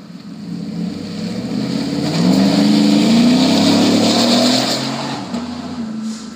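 A lowered 2015 GMC Sierra pickup with a dealer-installed dual exhaust and a 3.42 rear end revs up close. The deep exhaust note climbs in a long swell, holds near its peak, then eases back down.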